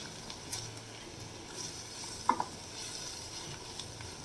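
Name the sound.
stirring butter garlic mushrooms with oregano in pan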